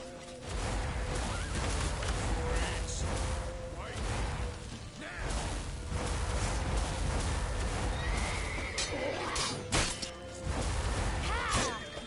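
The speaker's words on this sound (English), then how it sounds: "Leave your horse!" A horse neighs and whinnies amid clattering hooves and action noise in The Witcher 3 video game, with loud bursts of crashing and swooshing around it and voices briefly heard.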